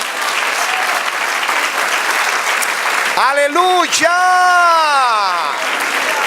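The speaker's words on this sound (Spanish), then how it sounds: "Dale otro aplauso al Señor" A church congregation claps steadily and densely throughout, and midway a loud voice rings out in sustained, exclamatory calls above the applause.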